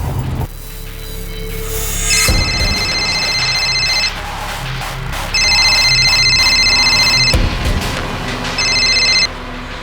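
A telephone ringing during a crime drama scene, with loud electronic ring bursts repeating in regular pulses over a low hum, clear and close with no talking.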